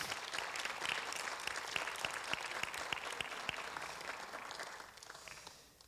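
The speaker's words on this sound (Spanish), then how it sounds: "Den un aplauso al Señor." A church congregation claps together during a sermon, the applause moderately loud with distinct individual claps audible, gradually thinning toward the end.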